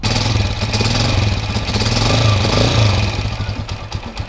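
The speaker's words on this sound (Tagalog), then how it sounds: "dahil sa ganitong ingay ng motor ko" A Honda TMX155 motorcycle engine idles close by with a steady throb and a rapid metallic ticking clatter from worn rocker arms and push rods running through it.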